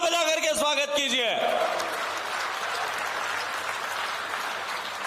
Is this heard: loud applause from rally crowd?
yes